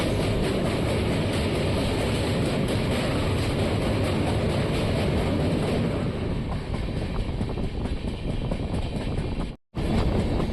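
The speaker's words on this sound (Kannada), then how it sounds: "ಶ್ರೀರಂಗಪಟ್ಟಣ ಪಶ್ಚಿಮ ವಾಹಿನಿ ರೈಲ್ವೆ ನದಿ ಬ್ರಿಡ್ಜ್ ದಾಟ್ತಿದೆ ನಮ್ಮ ಟ್ರೈನು" Mysore to Chennai SF Express crossing the Paschima Vahini river bridge at Srirangapatna, a heavy, continuous rumble of wheels and wind buffeting, easing slightly before a sudden brief cut near the end.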